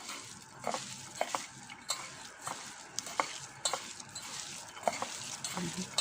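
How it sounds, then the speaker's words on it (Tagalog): Ground beef meatball mixture with baking soda and salt being kneaded by hand in a bowl: soft, close, irregular squishing and light clicks, fairly quiet, with no talk. "Lamasin para ma-distribute ang baking soda at malambot ang karne."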